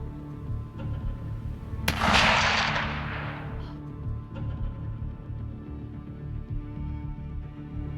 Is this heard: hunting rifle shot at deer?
yes